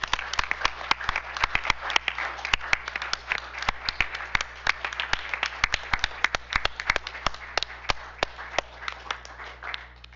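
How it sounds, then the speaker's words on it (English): Applause at a school district board meeting: a modest group clapping steadily for about ten seconds, distinct individual claps standing out over a constant low electrical hum, fairly close and even in level. "let's give them another round of applause"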